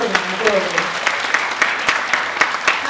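Lively clapping from a small group at the end of a theater play, with sharp individual claps standing out and voices chattering underneath.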